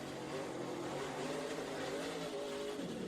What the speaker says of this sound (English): You can hear him working the throttle and working the steering wheel at the same time